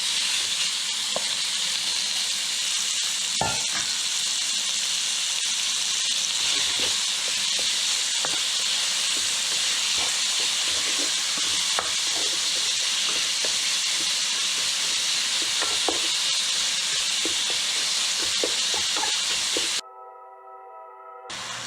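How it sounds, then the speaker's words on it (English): Salted and peppered beef browns in hot oil in a brazier, giving a steady loud sizzle and hiss with scattered pops that run continuously for about twenty seconds, then cut off abruptly. "What we're going to do is we're going to brown the beef."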